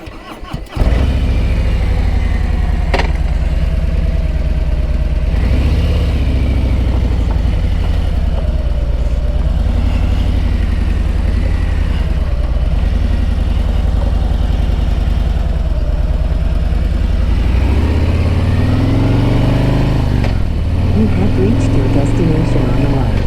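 Motorcycle cruising on a road trip into Boston, a loud, steady engine drone that runs unbroken for the whole stretch with wind rush, the revs swelling and dipping near the end.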